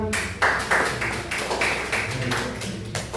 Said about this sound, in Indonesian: Tepuk tangan buat Pak Jamal.